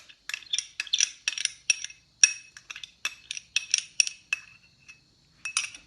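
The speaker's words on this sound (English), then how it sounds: "and I'm going to add the coffee to it." A utensil stirring coffee into half of a marble coffee cake batter for a stovetop-baked spongy cake, making quick, repeated clinks and scrapes against the bowl in an uneven rhythm, close and moderately loud, with no talking.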